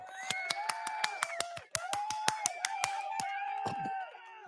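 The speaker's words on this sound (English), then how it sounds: "Just sometimes, just clap." A church congregation claps in a sharp, even rhythm, about three claps a second, with a brief pause partway through. Singing or a preaching voice carries on under the clapping.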